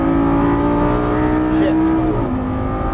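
A Lamborghini Gallardo LP550 engine pulls hard on a track, a loud, close, sustained note rising steadily in pitch with a brief dip near the end, while someone talks over it.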